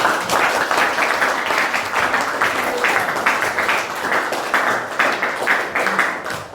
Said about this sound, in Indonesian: Mari berikan aplaus.